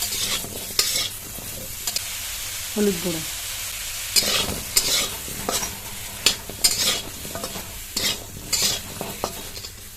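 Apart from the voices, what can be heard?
raw mango frying and stirring in pan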